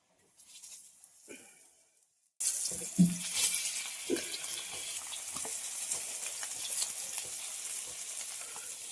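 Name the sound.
bangda (mackerel) fish frying on a tawa over a wood-fired chulha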